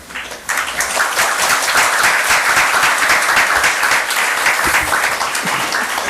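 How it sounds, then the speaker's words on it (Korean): A church congregation breaks into loud, sustained applause to welcome a pastor, dense clapping that starts abruptly and holds steady throughout. "나오실 때 우리 박수로 환영해 주시면 감사하겠습니다."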